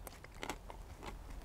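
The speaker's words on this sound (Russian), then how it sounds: "Вот оно очень хрустит хорошо." Crunchy spicy pickled cabbage from a Chinese military ration pack is bitten and chewed close up, giving a few quick, crisp crunches over a faint background.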